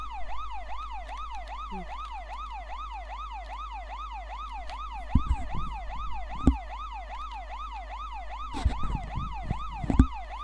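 Police car siren wailing in a steady rising-and-falling cycle, loud and continuous throughout, with a few brief thumps and clicks near the end.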